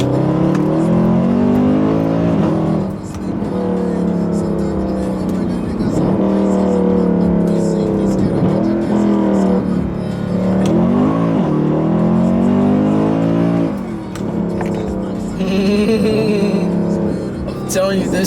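A Mercedes C63 AMG with the P31 development package drops gears and accelerates hard; the engine note climbs in loud rising sweeps, with brief dips at the shifts, heard from inside the car with a voice present over the roar.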